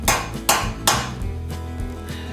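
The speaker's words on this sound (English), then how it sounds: "then you take a hammer and you set the extractor." Three sharp metallic hammer taps ring out close by, setting a bolt extractor into a drilled hole in a broken head bolt on a Vortec 4200 Trailblazer engine, followed by a few softer ringing knocks as the clatter fades.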